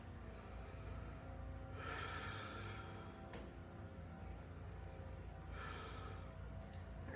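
Slow, deep breaths during a basic yoga session, two long airy exhalations a few seconds apart over a steady low hum, close and fairly quiet with no talking.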